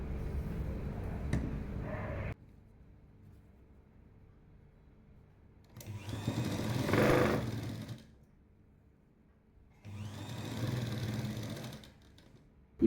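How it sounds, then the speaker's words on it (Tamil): A sewing machine runs along the edge of a lined jacket in two separate bursts of steady whirring stitching with quiet pauses between them, after a brief clatter at the start. "இப்போ இங்கே தச்சு இந்த ஓரத்தில் தைச்சிடலாம்"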